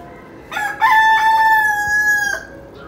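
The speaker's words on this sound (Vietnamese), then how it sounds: "Nãy giờ không gáy đâu. Chờ tới hình mình quay clip là tụi nó gáy sùm vậy đó." Roosters crow in a barnyard among a flock of chickens, one long, loud, clear cock-a-doodle-doo rising after a short start and holding steady for nearly two seconds before breaking off.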